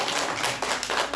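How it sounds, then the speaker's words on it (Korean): A church audience at a Sunday service claps briefly in welcome, a short burst of close, scattered handclaps with no voices over it. "박수로 환영하겠습니다."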